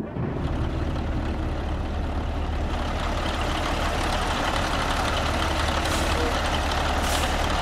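Kenworth T2000 truck engine in American Truck Simulator rumbles with a steady, loud, dense drone that holds evenly throughout, with no speech.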